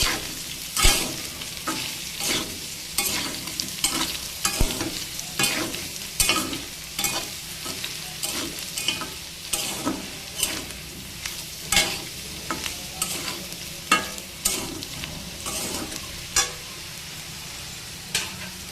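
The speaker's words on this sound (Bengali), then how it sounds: "গাটি কচু আর কাঁঠালের বিচি বেশ ভালো করে ভাজা হয়ে গিয়েছে" Taro and jackfruit seeds are stir-fried in a pan, with rhythmic scraping strokes of a spatula repeating every second or so over a continuous sizzle, close and clear, no speech.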